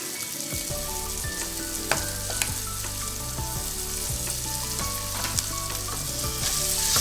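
Mashed potato being stirred with turmeric in a hot pan, giving a steady sizzle with scraping spoon strokes at irregular intervals throughout.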